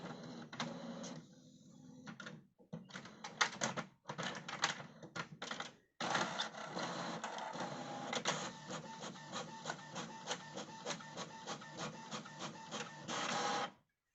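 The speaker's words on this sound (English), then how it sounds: "see what the printer's doing" An HP Envy 5546 inkjet printer whirs and clatters in rapid mechanical bursts, its print head shuttling back and forth with brief pauses between passes.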